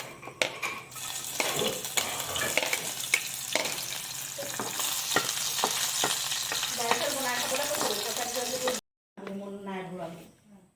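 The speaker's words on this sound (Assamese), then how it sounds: "প্ৰথমতে এইটো নহৰুটো দিম, তাৰপৰা আদা দিম, জলকীয়া, তাৰপৰা বিলাহী" Garlic, ginger, chilli and tomato sizzle in hot oil in a pan for homemade pasta, a steady close crackle with spoon clinks and stirring, and a voice speaks briefly near the end after a short gap.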